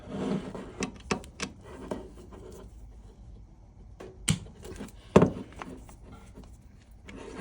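A JIS screwdriver loosens the clutch cover screws in a crosswise pattern on a 1986 Honda CT110. Close, sharp clicks and creaks come in a short series, with quieter rubbing between them and no talking.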